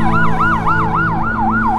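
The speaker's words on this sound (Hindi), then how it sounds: "ये बोलते ही एम्बुलेंस की आवाज आने लग जाती है" A loud wailing ambulance siren in a cartoon rises and falls in quick, regular sweeps, close and continuous with no other sound.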